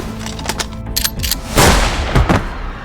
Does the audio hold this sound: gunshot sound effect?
yes